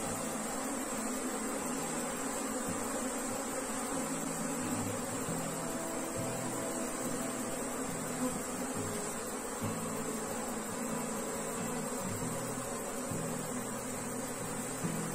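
Dense, steady buzzing of a honeybee swarm surrounding a beekeeper as the queen is located and caught, a continuous close insect drone holding level throughout with no talk.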